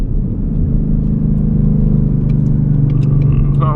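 A 2020 Ford Mustang 5.0 with a muffler delete pulling in third gear on a night drive, its deep droning exhaust loud and steady from inside the cabin.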